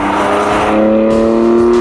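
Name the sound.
BMW M4 with M Performance exhaust revving, bassy growl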